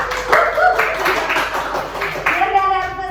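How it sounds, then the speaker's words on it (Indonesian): A few people clap together in a radio studio, a short brisk burst of hand claps mixed with chatter and voices. "kita tepuk tangan dulu buat kita dong"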